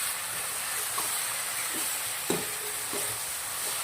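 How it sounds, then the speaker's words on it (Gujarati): A spoon stirs chole gobi sabzi with fresh green peas in a pan, giving soft scraping strokes with a few sharper clinks over a steady sizzle and hiss. "સરસ મિક્સ કરી દઉં છું."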